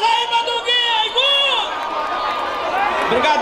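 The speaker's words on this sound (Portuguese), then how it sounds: "Uma salva de palmas aí pra Duguinho" A crowd at a Festa de Reis street celebration in São Joaquim do Monte, Pernambuco, cheers and whoops in a steady, loud wash of voices, with scattered shouts rising over the noise.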